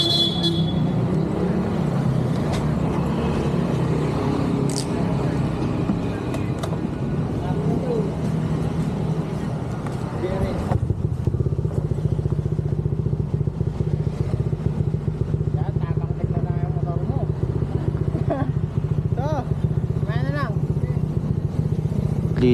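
Motorcycle engine running at a steady idle that rises into revs, close and loud. Someone talks over it and faint traffic and horns sound in the background.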